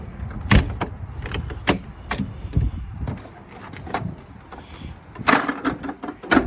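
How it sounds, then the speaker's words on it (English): An RV camper door is handled and shut, giving several sharp latch clicks and thuds at irregular intervals, with a louder clunk near the end amid quiet room sound. "And then you can shut the door properly."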